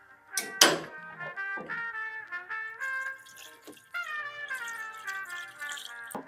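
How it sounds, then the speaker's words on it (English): Coolant pours from a gallon jug into the radiator of a 1970 Plymouth Custom Suburban, making an up-close, bubbling glug and gurgle with rising, pitched tones as the liquid flows in. "we'll go ahead and grab our coolant here. And we'll just start filling it back up."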